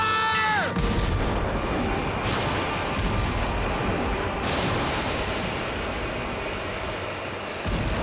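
Heavy weapons fire booms through a submarine battle scene, a loud, sustained roar of blasts and rumbling noise that carries on for several seconds with no voices.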